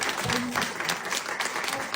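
A church congregation clapping together during a Nepali Christian worship service, a dense, continuous burst of applause from many hands filling the room, with faint voices mixed in.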